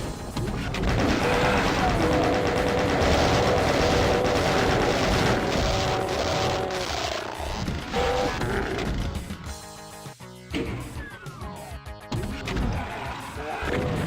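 Chaingunner enemy firing its chaingun in the video game Doom, a dense, continuous barrage of loud gunfire and crashing impacts that thins into scattered shots and blasts toward the end.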